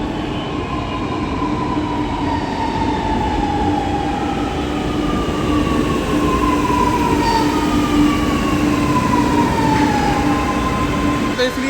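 A Delhi Metro train rumbles steadily along the track, with motor whine gliding up and down in pitch and constant loud carriage noise throughout.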